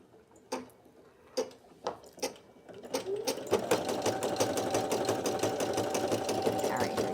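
A Brother PE800 embroidery machine starts with a few separate mechanical clunks, then settles into fast, steady stitching, a rapid rhythmic ticking and whirring that fills the room.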